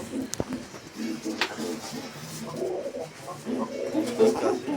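Black Lotan pigeons coo softly and repeatedly, low burbling calls close by amid faint background chatter and a few small clicks.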